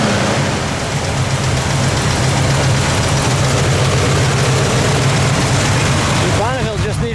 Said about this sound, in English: We'll give it one good rev.